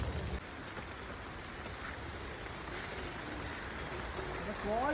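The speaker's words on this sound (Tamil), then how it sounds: "பயங்கர மழையாக வேறு இருக்குது." Heavy rain pours steadily over a plant nursery, a dense continuous hiss of water at close range with faint voices underneath.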